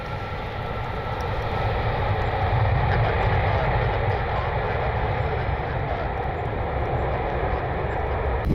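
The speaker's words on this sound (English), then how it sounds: "United Airlines 1910 737 MAX inbound from LAX." A United Airlines Boeing 737 MAX inbound from Los Angeles arrives at Cleveland Hopkins, its engines giving a steady, broad roar at moderate distance that holds evenly throughout without talk.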